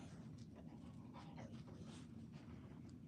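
A dog whines and whimpers in short high bursts over a steady low background hum, fairly close but not loud, with no talking.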